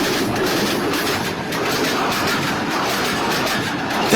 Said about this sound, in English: That distinct click-clack sound happens when the train rolls over the rail joints.